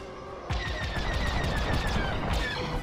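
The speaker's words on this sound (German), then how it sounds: "Da sitzen die Schüsse." A sudden volley of rapid electronic blaster shots breaks out and keeps going in Star Wars: Squadrons, dense crackling impacts with sharp zaps layered over a heavy rumble.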